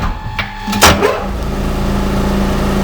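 A lathe roughs down a metal workpiece at a higher spindle speed, giving a sharp scrape near the start and then a loud, steady machine whir.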